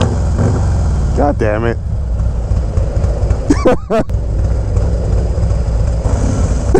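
A motorcycle engine rumbles low and steady close by in a Milwaukee street setting, with a few sharp tonal sweeps and a man cursing over the noise.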